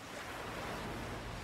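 Sea waves churning off the French coast, a dense steady roar of surf mixed with wind noise, loud and unbroken throughout with no voices.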